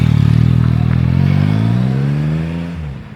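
A motorcycle engine revs steadily and loudly on a ride in Japan, a strong low drone that holds for most of the clip before easing off and dropping near the end.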